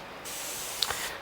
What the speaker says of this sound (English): That yellow is spraying like crap.